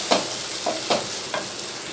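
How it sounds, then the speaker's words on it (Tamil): Paneer butter masala with garam masala sautéing in a pan: four or five spaced scraping strokes of a spoon over a low steady hiss, close by and without speech. "இப்போ நல்லா எல்லாம் சேர்த்து வதக்கி விட்டுட்டேன்"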